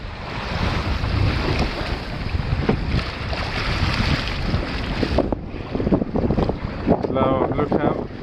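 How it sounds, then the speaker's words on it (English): Steady wind roars across a small Drascombe Coaster sailing boat off the Scottish islands, mixed with water rushing and slapping against the hull, continuous and close, with a brief voice near the end. "It's a nice breezy day."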